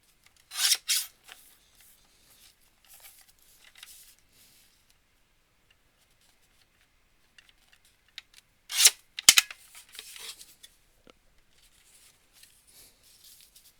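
Paper being cut for a Halloween-themed scrapbook album, two short crisp bursts of snipping and rasping at the start and again about two-thirds through, with faint rustles between and no talk.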